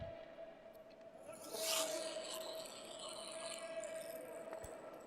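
Curling brooms scrub the ice during a match at the Austrian Curling Open 2025, a soft rasping swish that swells briefly louder, over a steady arena hum.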